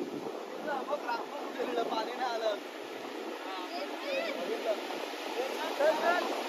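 Sea waves wash steadily onto Murud beach as a continuous broadband roar, partly masked by several people and children chattering nearby.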